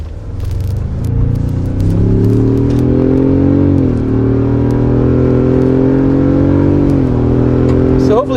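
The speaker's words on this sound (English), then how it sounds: "hopefully you can kind of hear the power there, or the engine note at wide open throttle" A car engine pulls hard at wide open throttle while merging onto a highway, its steady harmonic drone rising in pitch, dipping briefly and climbing again, loud and continuous from inside the cabin.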